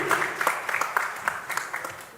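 An audience at a formal launch event gives a short round of applause: scattered, moderately loud claps from a modest crowd, thinning out over a couple of seconds.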